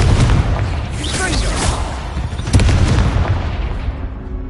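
A Confringo fire spell blasting in the Hogwarts Legacy video game, a loud booming burst followed by rumbling crackle over continuous game ambience, with a second sharp impact about halfway through.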